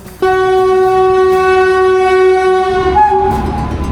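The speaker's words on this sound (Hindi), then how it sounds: "ऊपर है ना ट्रेन की आवाज़ आ रही है" A train near a railway line blares a loud, sustained, steady horn for several seconds, close by, with rumbling rail noise rising underneath as the horn fades.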